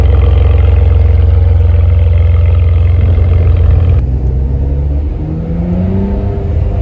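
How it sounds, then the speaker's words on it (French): A Ferrari 599 engine roars loudly up close, holding a deep rumble before the revs shift and fall away into a lower growl. "Le moteur est énervé, il a envie d'arracher les bitumes."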